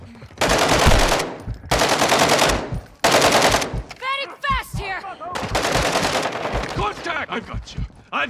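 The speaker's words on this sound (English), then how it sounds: "You are taking effective fire." Call of Duty gunfire comes in long, loud, close bursts of rapid automatic shots separated by brief pauses, with voices shouting between and over the volleys.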